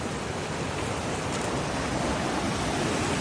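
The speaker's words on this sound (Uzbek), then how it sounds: "Va sharshara!" Dense, constant roar of rushing water, a loud broadband wash that never lets up, like a waterfall close by.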